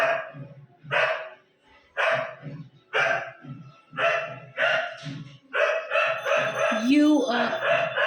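A dog barks repeatedly, about once a second in a steady rhythm, loud and fairly close, with crowing mixed in near the end.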